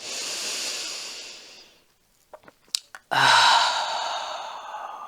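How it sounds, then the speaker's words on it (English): A long, deep breath is let out through the mouth during a yoga flow, first as a soft sustained exhale that fades, then a few brief breathy sounds and another strong airy exhale. "I want to take an inhale through the nose and an exhale like an R breath through the mouth."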